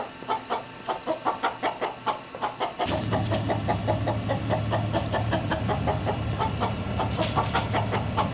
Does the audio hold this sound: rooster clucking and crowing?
yes